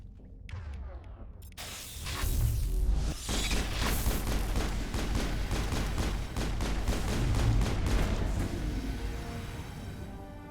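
A grenade blast in Mass Effect combat lands as a loud boom, followed by sustained rapid gunfire and further booms that continue densely to the end.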